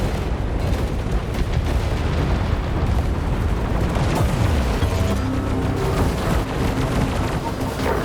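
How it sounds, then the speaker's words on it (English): Incoming missiles exploding in the robot combat game War Robots: Frontiers, a dense wall of booms and blasts that never lets up, with faint voices somewhere in the mix. "Incoming missiles."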